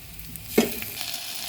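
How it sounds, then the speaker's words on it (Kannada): Tomato frying with onion in a pan, soft sizzling with a brief stir or scrape, close and short. "ಈಗ ಟೊಮೆಟೊ ಒಂದು ನಿಮಿಷ ಚೆನ್ನಾಗಿ ಫ್ರೈ ಆಗಿದೆ"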